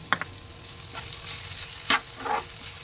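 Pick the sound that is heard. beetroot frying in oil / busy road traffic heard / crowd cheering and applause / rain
beetroot frying in oil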